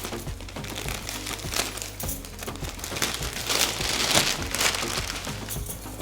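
A plastic cover crinkles and rustles up close as a folded saree is packed into it, with irregular handling crackles that grow busier toward the end.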